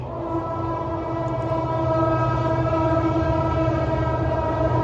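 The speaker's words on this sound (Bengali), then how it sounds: "পদ্মা সেতুর ওপর দিয়ে ট্রেন যাচ্ছে নিশ্চয়ই আপনারা সাউন্ড পাচ্ছেন" A train crossing the Padma Bridge produces a steady, droning rumble with sustained tonal humming, heard continuously from a distance with no voices.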